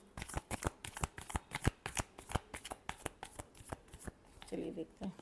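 A deck of cards is shuffled close up in a series of quick, crisp riffling snaps at an uneven rhythm, with a soft voice briefly heard near the end.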